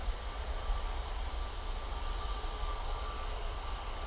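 A British Airways airliner takes off at Manchester Airport, its engines giving a steady, distant roar with broad rumble throughout.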